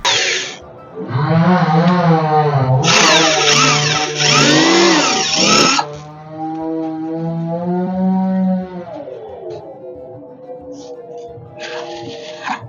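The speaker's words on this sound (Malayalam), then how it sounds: "അവിടെ സൗണ്ട് കേൾക്കുന്നുണ്ട് അവിടെ മരം മുറിക്കുന്നുണ്ട് കേട്ടോ" A loud, whining power saw cutting a tree, revving and straining in long bursts with the engine pitch rising and falling between cuts.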